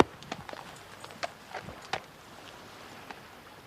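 Horse hooves clip-clop at a walking pace, a series of distinct, moderately close strikes with irregular rhythm over quiet outdoor background, no talking.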